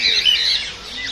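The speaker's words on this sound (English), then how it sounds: "Cockatoos or something." Cockatoos squawk in a large zoo aviary cage holding many birds, giving shrill, harsh calls that ring out close and loud across the whole moment.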